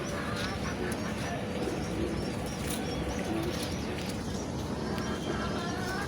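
Caged pigeons, males and females in separate cages, coo softly in low repeated murmurs over a constant background hum, with a few sharper chirps now and then.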